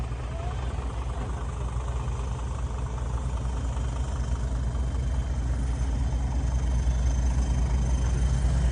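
A farm tractor engine idles at a dirt pit, a steady low rumble that holds even and continuous throughout with no talk over it.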